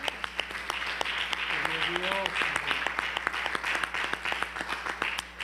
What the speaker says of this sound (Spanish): Alaba, dale un aplauso al Señor.